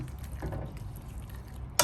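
Quiet stirring of a raw banana curry in a pot, soft scraping and bubbling, with a brief sharp clink near the end.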